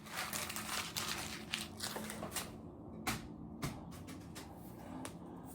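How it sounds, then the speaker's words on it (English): A sheet of paper is crumpled up by hand close by, a run of quiet crackling and crinkling bursts with sharper snaps mixed in, heard alone. "I'm just gonna crumple it up."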